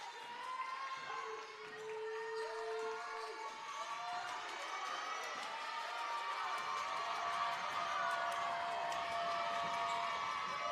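Crowd noise filling a high school gym during a girls' basketball game, St. Albans Red Dragons versus George Washington Patriots: a steady, moderately loud murmur of cheering and chatter with scattered shouts and faint squeaks, unbroken throughout.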